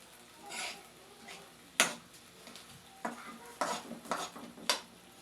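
Corned beef and plenty of onions fry in an oily pan, a faint sizzle under repeated scrapes and clinks of a utensil stirring against the pan.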